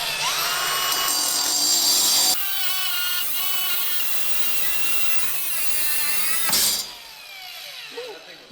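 A diamond-tipped blade cuts through a car body with a loud, high metallic shriek, then dips into a lower grinding whine as it bites. It surges again before cutting off and fading to quieter clatter.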